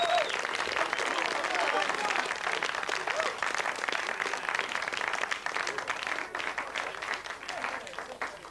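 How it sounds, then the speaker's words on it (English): A studio audience gives a long round of steady clapping and cheering that stays full throughout and thins slightly toward the end, with voices faintly underneath. "Give them a nice round of applause"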